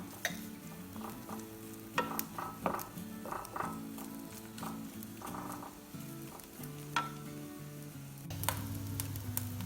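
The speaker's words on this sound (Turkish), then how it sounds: "Şöyle üzerine biraz sıvı yağ gezdirelim. Bu kadar yeterli. 1 2 yemek kaşığı kadar. Onlar biraz kavrulsun." Chopped sausages fry in a few spoonfuls of oil for a tray kumpir, a soft sizzle with occasional stirring clicks, partly masked by background music.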